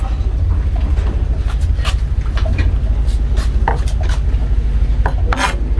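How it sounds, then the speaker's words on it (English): Continuous rapid rasping and scraping of a knife chopping on a board, close and fairly loud, with a low rumbling hum underneath. "You guys can also have a look at how finely I'm chopping these."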